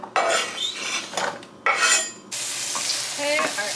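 Diced onion frying in a skillet, with two short bursts of scraping and stirring followed by a steady, close sizzle that continues to the end.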